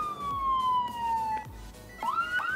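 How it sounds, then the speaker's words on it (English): An FDNY ambulance siren wails down in pitch, then rises into sharp, rapid yelps, loud and close with road noise underneath. "Turn off the siren"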